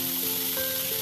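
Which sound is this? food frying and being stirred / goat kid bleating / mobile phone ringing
food frying and being stirred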